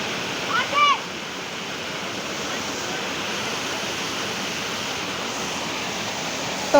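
Broad, steady rush of the large Shiva Jatta waterfall near Dharan, Nepal, a constant hiss of falling water filling the whole clip, with brief voices at the start and end.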